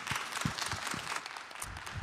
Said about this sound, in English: A round of applause for Alex.